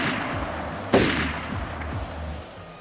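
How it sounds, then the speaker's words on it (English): A single sharp gunshot in a point-and-click video game rings out with a decaying tail, over a low background and faint later pops. "Somebody's shooting. Shots."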